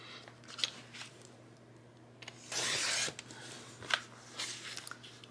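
Scissors cut paper along a seam, heard up close and quietly. A few sharp snips are followed by a longer rasping slice, then more scattered snips, all over a faint steady hum, and nobody speaks.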